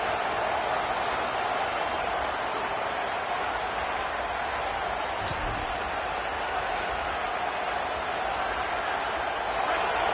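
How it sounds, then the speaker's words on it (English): A roaring stadium crowd in a college football video game, a dense, loud, unbroken wall of cheering noise with faint thuds and taps scattered through it. "This crowd, full throat, splitting the eardrums and letting them know it's going to be a long day"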